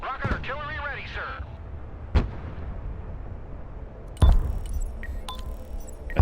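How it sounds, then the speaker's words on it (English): Rocket artillery launching in the strategy game Broken Arrow: sharp broadband blasts strike around two and four seconds, each with a short rumbling tail over constant battle noise, and someone speaks briefly at the start. "Rocket artillery ready, sir."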